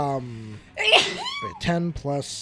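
A single sharp sneeze bursts out mid-conversation, loud and close, with voices talking just before and after it.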